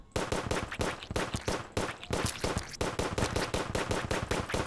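Rapid gunfire from a gun in the video game Terraria, a dense, steady stream of sharp shots repeating quickly and loudly for several seconds without a break.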